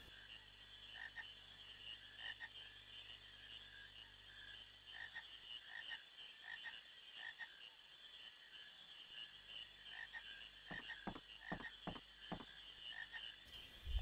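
Frogs croaking in Final Fantasy IX over a soft game background, with a few scattered croaks early and a quick run of clustered croaks near the end.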